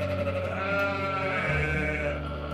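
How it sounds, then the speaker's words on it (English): Newborn lambs on a family sheep farm bleat in a close, continuous chorus of overlapping high wavering cries, loud and sustained with no talking. "right now there are newborn lambs arriving by the minute"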